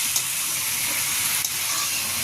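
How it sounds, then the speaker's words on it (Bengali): Rohu fish pieces sautéing with tomato and spices in a pan give off a steady, close, bright sizzling hiss with a couple of faint stirring ticks. "মাছগুলো দুই এক মিনিট মশলার সাথে ভালো করে কষিয়ে নিলাম"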